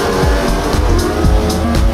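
Race cars at the Le Mans endurance race roar loudly with a continuous engine drone, several rising pass-by whooshes and tire noise recurring throughout, with no voices.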